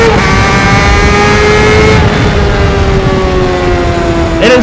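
A Honda CBR600RR sport motorcycle's exhaust screams loudly at high revs, its note holding steady and then sliding gradually lower, with a quick sharp rise right at the end.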